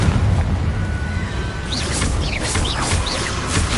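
The Confringo explosion spell in a Hogwarts video game produces dense, continuous loud booming and crackling blasts, with no talking.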